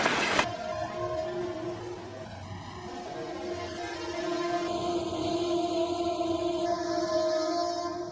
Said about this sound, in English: I think few have seen such a smoky train in Rio.